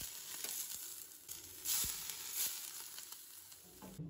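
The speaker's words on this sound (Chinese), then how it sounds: "再淋上热油" Hot oil poured over a steamed minced meat patty scattered with scallions, giving a bright, close crackling sizzle that flares and settles over a few seconds, with no talk.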